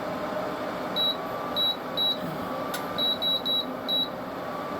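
Kitchen cooker timer sounding a series of short, sharp electronic beeps, about eight in irregular clusters, as it is being set; the beeps ring out clearly over a steady background hum.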